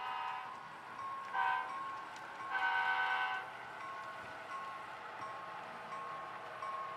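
HO scale model Sounder commuter train pulling in, a quiet electronic horn sounding in short blasts, one brief and one longer, over a faint steady hum, with no voices.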